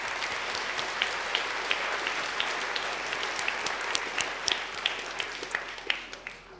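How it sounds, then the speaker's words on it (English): Audience applause after a lecture on whether Santa is a magician or scientist, a steady wash of many hands clapping throughout, with individual sharp claps standing out near the end as it thins. "I think that deserves a round of applause."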